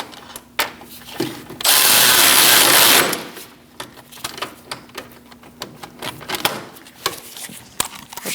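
Power tool snugging up the front lower inner ball joint bolts on a 2000–2006 Mini Cooper, a loud continuous whirring burst of about one and a half seconds, followed by quieter clicks and tool handling noises.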